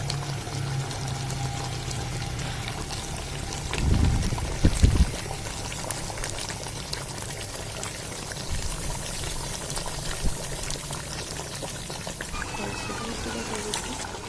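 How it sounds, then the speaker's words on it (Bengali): Mutton simmering with ground spices in a pot over a village fire, a continuous wet bubbling sizzle with a couple of louder stirring clatters and scrapes partway through. "আমাদের মাংসটা কষানো প্রায় শেষের দিকে, আর অল্প কিছুক্ষণের মধ্যেই ইনশাল্লাহ হয়ে যাবে।"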